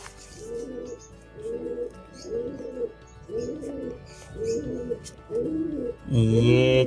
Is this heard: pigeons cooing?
yes